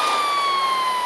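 A loud air ambulance siren wails steadily with a high, sliding tone, close by and continuous, with no voices present.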